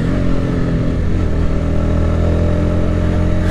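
A Honda CBR 125 motorcycle engine runs steadily and loudly throughout, with a dense mid-pitched drone and slight rising revs, heard up close while riding with no talking.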